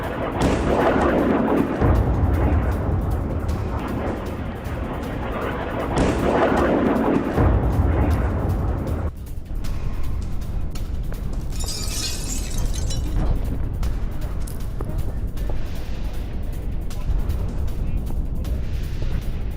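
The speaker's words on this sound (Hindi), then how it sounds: "किस तरह से ईरान ने इजराइल के पोर्ट सिटी हाइफा को निशाना बनाकर हाइपरसोनिक मिसाइलों से बड़े हमले अंजाम दिए हैं" Hypersonic missile strikes hit the Israeli port city of Haifa, producing loud, continuous rumbling explosions and heavy booming blasts that roll on for the whole stretch, with sharper cracking bursts in the second half.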